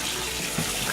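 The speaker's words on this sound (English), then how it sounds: "So just rinse them out like this." Cool tap water runs steadily over noodles held under the faucet in a kitchen sink, a short continuous splashing rush with no voices.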